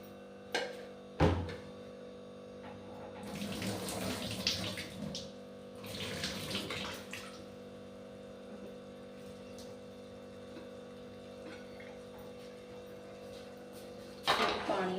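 Hot water is poured off boiled potatoes in a home kitchen, splashing and gushing in two short bursts amid clinks of a pot, with a steady hum beneath.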